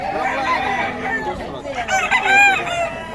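Chickens and roosters in Bocaue cluck and crow nearby, with one rooster's loud crow rising near the end over background birds and faint murmuring voices.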